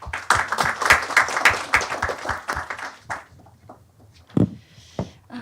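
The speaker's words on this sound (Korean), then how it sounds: "박수로 환영해 주시죠" Forum attendees clap to welcome a speaker, a few seconds of fairly sparse, distinct handclaps close by that thin out into scattered claps and small noises.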